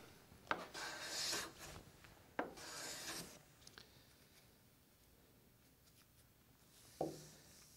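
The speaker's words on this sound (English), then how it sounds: "To plane this board, we're simply going to start on the left-hand side and move our way across to the right" A Veritas bevel-up hand plane takes overlapping strokes across a wooden board, giving a few sharp, close rasping swishes, each starting with a quick bite and followed by quieter stretches.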